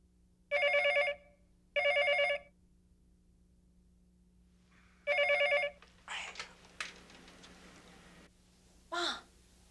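An old landline telephone bell rings in three loud, evenly spaced bursts in a quiet room, followed by a handset being picked up and brief rustling.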